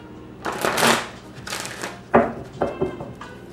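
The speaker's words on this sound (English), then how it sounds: "I saw this card while I was shuffling." A deck of reading cards is shuffled by hand in several quick riffling bursts, crisp and close, with brief pauses between them and no talking.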